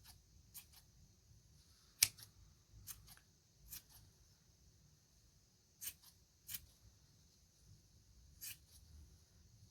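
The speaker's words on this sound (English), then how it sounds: "So now I can cut from here." Scissors snip into a round yarn pom pom for a cactus craft: a handful of quiet, crisp cuts spaced irregularly over a soft background hush, with no talking.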